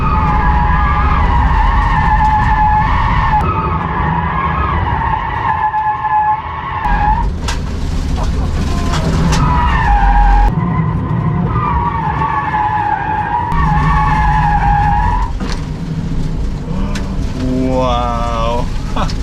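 The tires of a Rimac Nevera electric hypercar screech in long, loud skids as it drifts, with a sustained squeal that breaks and resumes several times and brief voices near the end.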